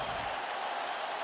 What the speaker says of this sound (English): This crowd is on its feet.